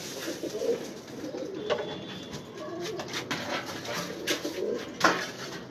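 Pigeons in a loft coo softly and repeatedly over a low rustling background, with occasional small knocks.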